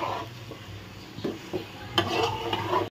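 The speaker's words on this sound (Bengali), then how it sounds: "মাংসটা ভাজা ভাজা করব" Meat is fried and stirred in a pan, with scraping spatula strokes and clinks over a low sizzle, getting louder toward the end, with no talk.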